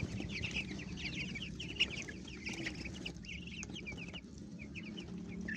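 White chickens cluck softly and continuously in a farmyard pen, a faint, steady chorus of short clucks and chatter over low background noise.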